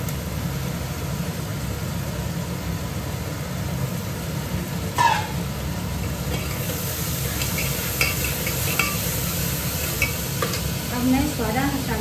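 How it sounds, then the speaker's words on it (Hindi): Soaked chana dal frying in a pan on high heat, a steady loud sizzle running throughout, with occasional scrapes and stirs of a utensil against the pan. "इसमें चने की दाल को जो मैंने भिगोया था एक कटोरी में, इसमें दाल को छोड़ दी।"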